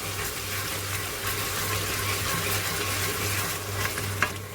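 Mutton biryani cooking in a pot, giving a steady, close bubbling sizzle with watery, stirring textures and a low hum, with no talking.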